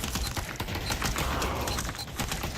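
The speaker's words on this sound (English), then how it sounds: "Oh no, it's a mini AK from Rick." Sustained rapid automatic gunfire from a mini AK in the Pavlov VR shooter game, dense and continuous, loud and close throughout.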